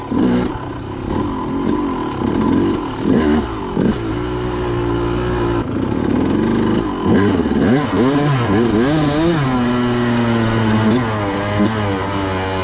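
A KTM two-stroke enduro motorcycle, ridden on a trail during race prep, revs hard close by, its pitch rising and falling in repeated surges over a constant loud engine drone.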